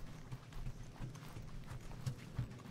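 Steady clip-clop of horse hooves in the video game Guardians of the Galaxy, moderately close and fairly quiet, with a regular trotting rhythm over soft background noise.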